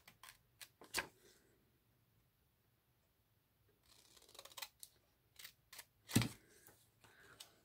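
Scissors snipping out decorative paper tiles indoors, a handful of quiet, separate sharp cuts with pauses between them, close and soft with no talking.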